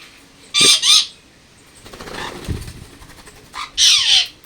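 Cockatiels in a cage in a Wayanad garden give two bursts of shrill, screechy calls a few seconds apart, close and loud, with quieter rustling between them.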